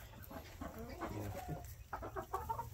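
Chickens cluck and murmur softly in a steady stream of short calls, with a few sharper squawks, over a low rumbling background.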